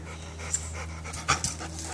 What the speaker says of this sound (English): Oh, it sounds like a dog. Oh, the dog's underneath it!